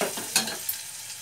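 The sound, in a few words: masala paste frying in oil, being stirred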